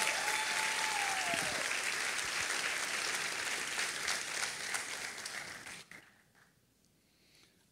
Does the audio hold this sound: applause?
yes